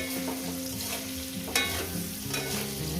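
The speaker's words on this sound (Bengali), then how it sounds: "এটাকে আমি ভালো করে ভাজবো" Mourala fish frying with potato and spinach in a pan, a steady close sizzle with stirring scrapes throughout and a sharper spatula clack near the middle.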